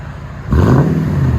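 A 2018 Toyota Tundra's 5.7L V8 with a Carven TR-Series exhaust idles, then barks into a single sharp rev with a deep, throaty rumble up close.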